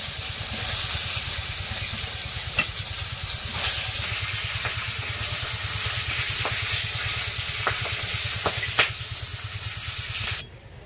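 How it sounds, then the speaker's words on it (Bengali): Fish fries in a pan with a loud, continuous sizzle and spattering hiss, broken by a few sharp pops and clicks, before cutting off near the end. "মাছ ভাজা হয়ে গেছে, নামিয়ে নেই।"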